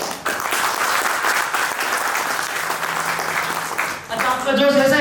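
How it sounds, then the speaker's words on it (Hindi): Audience at an offline technical training event bursting into loud, sustained applause with cheering, ending abruptly as a voice cuts in near the end. "तालियों वाला जोश चाहिए।"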